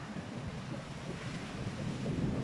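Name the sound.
wind on a beach in Cancun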